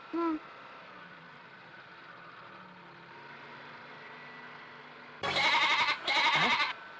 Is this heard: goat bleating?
yes